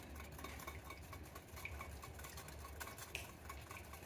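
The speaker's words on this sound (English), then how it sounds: "mix your xanthan gum and the oil together really well until that xanthan gum dissolves in there" Xanthan gum and oil being stirred together for homemade dish soap, a steady, quiet scraping and clinking in a bowl that runs continuously with no voices.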